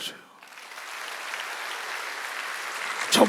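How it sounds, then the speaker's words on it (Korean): A Sunday worship congregation breaks into applause, the clapping swelling gradually from quiet into a broad, steady patter across the sanctuary, with a brief louder bump near the end. "박수 좀 쳐줘요."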